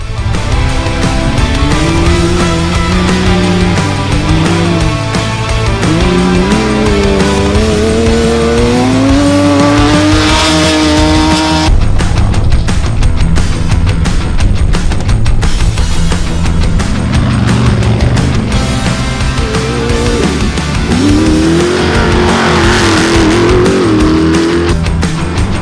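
Off-road racing buggies and cars, led by a WA1 Pro Buggy, blast through a lap of the Bencubbin 400 desert race. Engines scream loudly and rise and fall in pitch as they pass, with gear changes and revving throughout.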